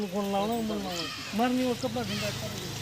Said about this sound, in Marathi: मेंढ्या बघा मेंढ्या हे दोन मेंढ्या आहेत मेंढ्या दिसत आहेत आपल्याला